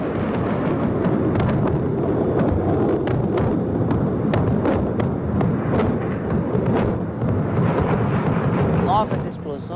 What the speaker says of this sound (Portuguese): Novas explosões, incêndios.